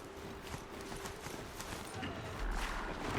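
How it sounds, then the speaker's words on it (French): Horse hooves gallop at a steady clip-clop in the video game Horizon Zero Dawn, a continuous run of mid-level hoofbeats under game ambience. "Est-ce qu'il peut courir plus vite mon cheval?"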